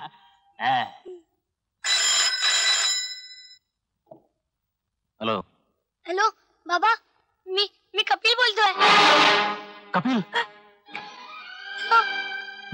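A telephone rings in a Marathi comedy film scene, a bright electronic ring lasting over a second between short, excited vocal outbursts and voices.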